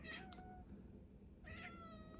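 A house cat gives two short, faint meows about a second and a half apart, heard alone over a steady background hiss.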